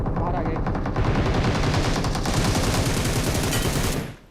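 Rapid bursts of video game gunfire rattle loudly and almost continuously, dense automatic shots overlapping before cutting off near the end.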